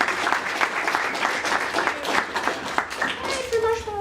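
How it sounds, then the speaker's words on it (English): A convention panel audience at UniCon 2015 breaks into applause, a steady patter of many hands clapping at moderate volume, with voices speaking over it toward the end. "Round of applause."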